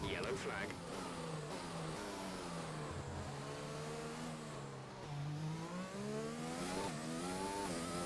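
Racing car engine in a Monza race from a racing video game, revving steadily through rising and falling pitch sweeps as it shifts gears, loud and continuous throughout.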